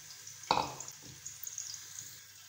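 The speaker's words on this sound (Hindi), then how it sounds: "मकरोनी इसमें डाल के हमने मिक्स कर लिया है" Macaroni tipped into a pot of salted water with oil: a sharp splash and clatter as the pasta drops in, then soft stirring swishes and faint liquid movement, close and quiet.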